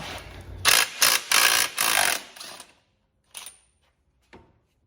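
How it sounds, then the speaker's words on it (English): A 32 mm socket and ratchet loosening the rear axle nut on a Yamaha R1 motorcycle: a few loud, close ratcheting bursts in quick succession, then silence broken by two brief metallic clicks. "we're going to grab our 32 mil socket and we're going to loosen this nut"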